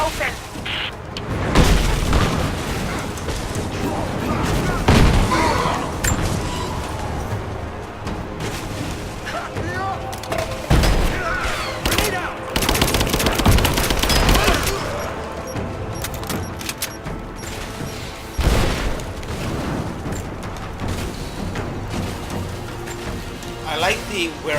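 Booming explosions and scattered gunfire from the Rise of the Tomb Raider video game, loud and continuous across the whole stretch, with people talking over the combat noise.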